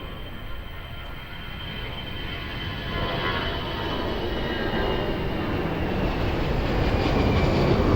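A jet airliner approaches runway 02 at Lisbon Airport, its broad engine roar swelling steadily louder as it nears over several seconds, heard from outside with no voices.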